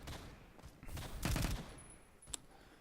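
Bursts of automatic gunfire in the video game Phantom Forces on a desert map, rapid rattling volleys swelling midway with a sharp single report near the end, fairly distant and with no talk over them.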